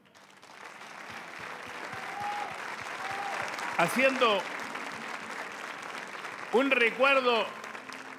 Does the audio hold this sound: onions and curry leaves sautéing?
no